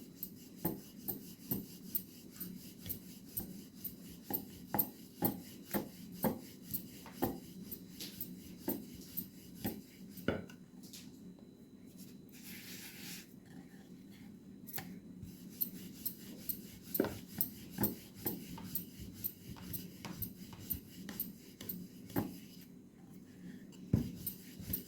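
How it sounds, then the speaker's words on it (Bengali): A rolling pin works methi paratha dough with onion on a board, giving soft rhythmic rubbing and scraping strokes that repeat steadily and close up, with a brief pause partway through. "অল্প অল্প করে এরকম আটা ছড়িয়ে ছড়িয়ে আমি বেলে নেব।"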